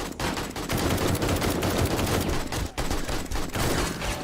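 Gunfire from bandits in the video game 7 Days to Die, loud and dense bursts of rapid automatic shots with brief gaps, sustained throughout without speech.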